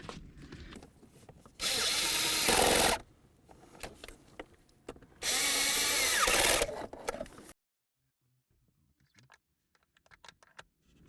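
Power tool driving the blower motor bolts tight on a 2000-2005 Buick LeSabre, two loud sustained whirring bursts of about a second and a half each, separated by quieter handling noise, then near silence.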